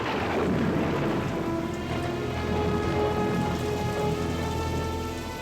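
Heavy rain falls at night in a dense, continuous hiss, steady and enveloping, with low rumbling underneath and no voices.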